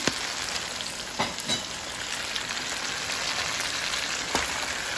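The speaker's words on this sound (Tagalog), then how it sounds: "Halo-halo lang po natin yung alamang niya." Shrimp paste (alamang) frying in a pan with eggplant, giving a steady close sizzle with a few soft scraping knocks as it is stirred. No voices.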